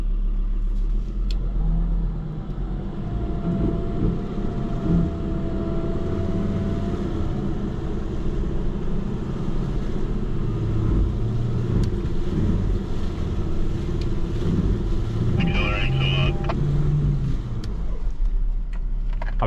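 Car engine revving in low, steady bursts while the vehicle sits bogged in mud on a track at Mt Sugarloaf, a continuous close rumble running throughout with no talk.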